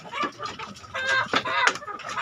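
Chickens cluck in busy, overlapping bursts as they crowd in to feed, close and fairly loud, with a few sharper squawks mixed into the steady chatter.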